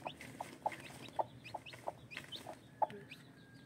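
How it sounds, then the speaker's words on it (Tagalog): Soft peeping of newly hatched chicks beside a brooding hen, a series of short, fairly close calls spaced irregularly over a quiet background. "May sisiw na bagong pisa."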